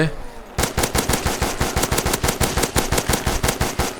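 Rapid automatic gunfire in the Black Ops 3 Zombies video game on a SpongeBob-themed map, a loud, steady burst of evenly spaced shots that continues for several seconds after a brief quieter lead-in.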